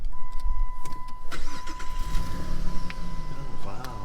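A restored car engine cranks and catches, settling into a loud, steady running rumble up close, with some background voices and clatter.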